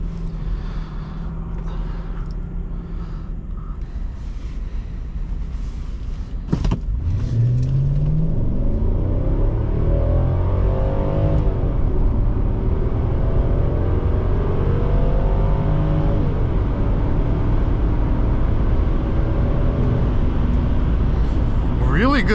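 A 2004 Mercedes-Benz ML500 V8 pulls hard under acceleration on the road, the engine note rising in pitch through the gears as a loud, rumbling sweep heard from inside the cabin, with someone talking over it.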